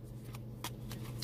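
A Gilded Tarot deck is shuffled by hand in a quiet room, with several soft, quick riffling bursts over a low background hum and no talking.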